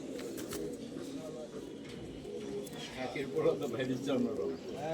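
A silver panel pigeon in a loft coos in low, rolling phrases close by, while someone talks over it throughout.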